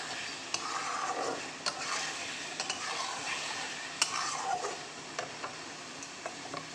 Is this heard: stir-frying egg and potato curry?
yes